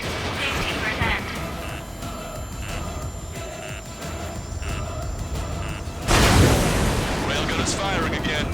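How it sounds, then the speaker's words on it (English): A railgun firing in the Ace Combat 7 jet combat game, a sudden heavy boom that swells over a busy roar of engines and repeated muffled impacts, with radio chatter running underneath. "Railgun is firing again."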